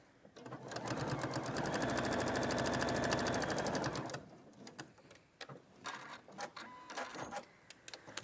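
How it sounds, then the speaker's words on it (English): Sewing machine stitching fabric along a seam, running steadily at a fast even rhythm for about four seconds, then stopping, followed by scattered handling clicks and light rustles. "take it to the machine and sew along that line"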